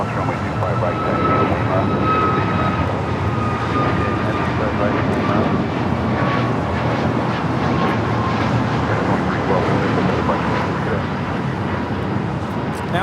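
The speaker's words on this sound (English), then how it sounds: "Now taking off is American Airlines" An American Airlines Boeing 737 MAX 8 takes off from Los Angeles LAX bound for Phoenix, its engines a loud, steady broadband roar with a slowly falling whine that holds for the whole stretch.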